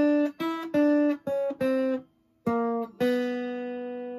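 Jazz guitar playing a phrase from a jazz tune in a children's lesson: about eight clear, separate plucked notes with a short pause midway, the final note left ringing, close and moderately loud with no talking.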